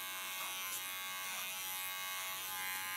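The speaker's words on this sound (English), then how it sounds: "now I can guide the hairs into the comb and into the clipper" A steady electric hair clipper buzzes close by as it cuts hair guided through a comb, a continuous even hum with slight wavering and no voices.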